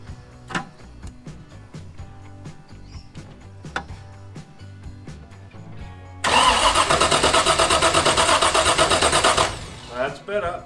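A rally car's starter motor cranks repeatedly in uneven bursts amid clunks and mechanical noise, then the engine catches and roars loudly for a few seconds before dropping away.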